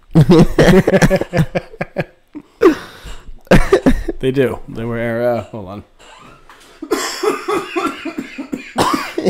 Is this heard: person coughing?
yes